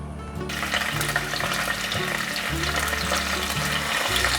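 Tofu frying in a little oil in a non-stick pan, a dense continuous sizzle and crackle, close and steady, with a faint low rhythmic hum beneath and no talking.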